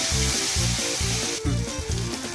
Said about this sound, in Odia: ମୁଁ ପିଆଜ ଦେହରେ ପକାଇଦେବି।